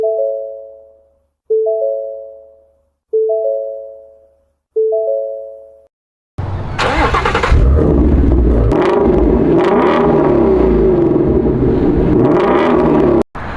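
Four short electronic chimes, then a 2016 Shelby GT350's engine starts with a loud roar and settles into a deep, rumbling idle, close by.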